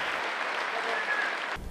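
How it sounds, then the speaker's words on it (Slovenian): Concert audience applauding loudly, a dense burst of clapping that cuts off abruptly near the end, with no talk over it. "pa so potrdili gledalci z bučnim aplavzom"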